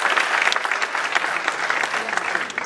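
Audience applause at a Tamil movie audio launch, a dense, steady clapping from a crowd that carries on for a few seconds with no voices above it.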